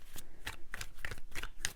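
Tarot cards riffled and shuffled in several quick bursts, each a short papery flutter with crisp snaps, close and fairly soft, with no voice over it.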